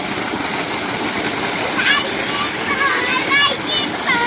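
Water flows and splashes in a stream where a child is bathing, a steady rushing wash close by, with voices talking over it throughout.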